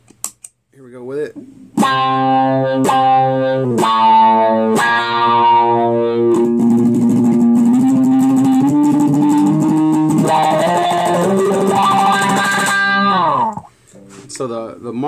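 Electric guitar run through a Sonicake Cry-Bot auto wah envelope pedal, loud and close: a few picked chords, then sustained notes whose tone sweeps and quacks with picking intensity, fading out near the end.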